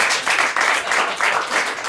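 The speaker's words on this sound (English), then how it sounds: "So give yourselves one more round of applause." A comedy club audience claps and cheers in a short, dense burst of applause that swells and ebbs in waves.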